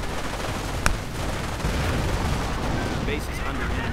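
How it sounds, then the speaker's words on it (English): Mortar blasts, heavy machine-gun fire and Nebelwerfer rocket barrages in a World War II strategy game battle, a dense, continuous wash of distant rumbling gunfire with one sharp crack near the start. "Mortar fire, lots of machine gun fire, Nebelwerfer fire"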